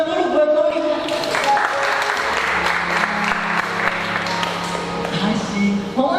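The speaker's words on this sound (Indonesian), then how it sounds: "Tepuk tangan dulu buat Loli." Audience applause at a Christmas and anniversary school celebration, a steady wash of clapping lasting throughout, with voices talking over it.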